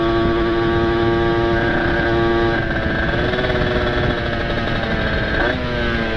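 Loud, close exhaust roar from a motorcycle with a ported engine, ridden along a dark, quiet road, holding a steady buzzing drone with slight pitch shifts as the revs change.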